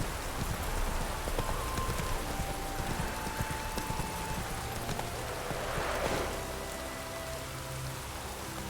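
Video game rain falls as a steady, moderate patter that holds throughout, with faint hoof-like clip-clops mixed in and no voices.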